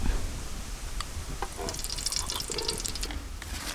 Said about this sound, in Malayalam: ആ ചെരുവത്തിലേക്ക് നമ്മൾ കുറച്ച് ഗീ ഒഴിച്ചു കൊടുക്കുക.